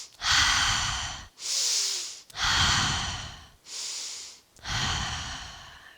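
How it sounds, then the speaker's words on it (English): Deep, audible breaths during a yoga class: slow inhales and exhales alternate in a steady rhythm of about five long, close breaths, with no talking. "I want to hear that breath."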